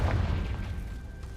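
Confringo blasting curse exploding in the Hogwarts Legacy video game, a single deep booming blast with a low rumbling tail that fades over about a second, loud and close, no talk.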